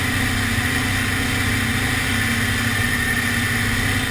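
Tuned tractor engine pulling through a field at full throttle, revving up from about 1,650 to 1,900 RPM; a steady, loud, continuous mid-pitched drone with a dense rumble and no talk over it.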